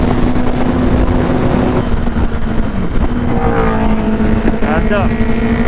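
A Nardo Grey Suzuki Hayabusa motorcycle on the STRR road, its screaming exhaust holding a loud, continuous engine roar that rises in pitch near the end.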